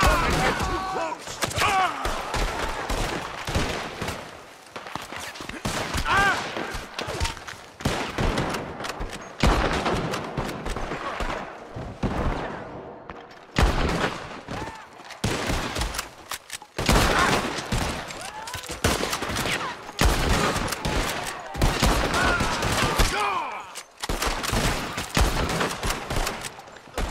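Rapid rifle and pistol gunfire from a Red Dead Redemption II shootout against men crossing fields, dense overlapping shots cracking almost without pause, with shouted voices mixed in.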